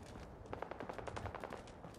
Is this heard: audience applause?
no